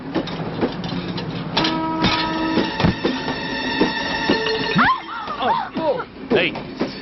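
A train rumbles along steadily with a sustained horn-like tone and clattering, while voices talk over it and briefly shout near the end.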